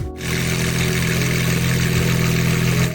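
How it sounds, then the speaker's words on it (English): V12 supercar engine firing up and settling into a loud, close, steady running drone with a deep, smooth hum and no talk over it. "It's V12. This is the best sound any car have, in my personal opinion."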